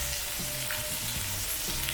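Food frying in oiled pan while being stirred, a continuous bright sizzle with soft scraping bumps from the stirring, close and steady without talk.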